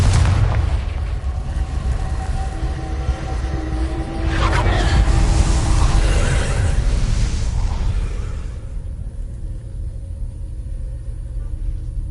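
A Confringo fire spell blasts in Hogwarts Legacy, giving a deep, loud rumbling explosion that swells midway with a crackling burst and then fades into a low tail, with no one speaking.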